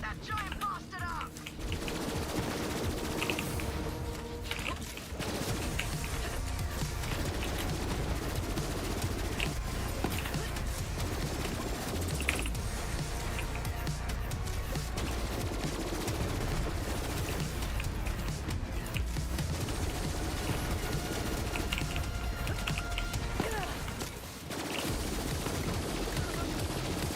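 Sustained gunfire in the shooter game Borderlands 3, a long dense run of weapon shots and explosions that keeps going almost without pause for nearly half a minute, loud and busy.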